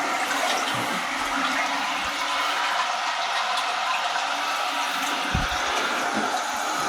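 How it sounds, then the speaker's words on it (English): A toilet tank refilling with water after the supply valve is opened, a steady, loud rushing hiss of running water that continues throughout, with a few faint clicks and knocks. "I'm going to open up the valve here and test for leaks before I go any further."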